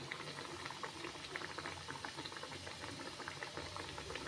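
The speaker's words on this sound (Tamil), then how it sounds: "இப்போ எண்ணெயில் நம்ம பொறிச்சு எடுத்துக்கலாம் நல்லா எண்ணெய் சூடாகுது" Hot oil bubbling steadily at medium flame as yellow pumpkin sweets deep-fry, a soft continuous crackle and fizz heard close up without speech.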